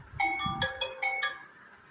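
A bright electronic ringtone from a vivo Y15c phone plays a quick melodic pattern of repeated chiming notes, clear and close, with no talking.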